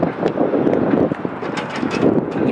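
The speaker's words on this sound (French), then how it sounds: "Il y a encore du vent." Steady outdoor wind buffeting the microphone in a small city near Boston on a cold, sunny day, a continuous broadband rush with gusty swells and no talk.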